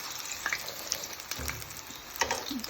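Plantain slices for patacones frying in hot oil, crackling and sizzling steadily with a few sharper pops and the clink of a utensil moving them around, no talking.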